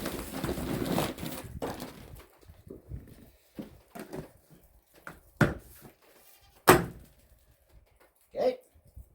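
Goats give short, scattered bleats on a farm, with separate calls spaced apart amid quiet gaps and some handling noises, alongside occasional talk.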